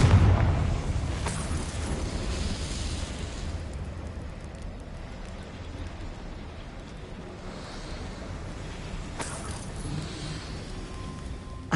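A Confringo spell blast erupts in a video game, a loud booming explosion at the start that rolls into a long, rumbling roar like surf or wind, with a second bright burst near the end.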